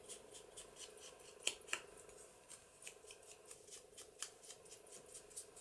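Scissors fussy cut an image printed on 200 GSM cardstock with quiet, steady snips and a couple of sharper clicks, close and soft, with no talking.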